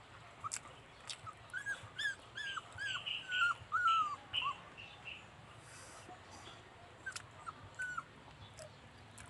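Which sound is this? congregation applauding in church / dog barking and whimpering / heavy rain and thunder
dog barking and whimpering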